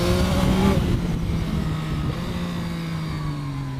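A Yamaha MT-09 motorcycle engine pulls hard while ridden into corners, a loud close revving drone that rises and then eases in pitch, with wind noise and no talk.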